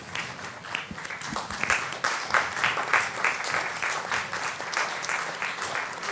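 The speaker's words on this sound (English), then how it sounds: "let's stand up and give a round of applause for ourselves" Conference audience standing and applauding themselves, a sustained crowd of clapping hands with some distinct near claps, steady and fairly loud throughout.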